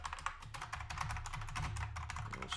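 Rapid, steady typing on a computer keyboard during repository setup, a dense run of close clicks and taps with no talking.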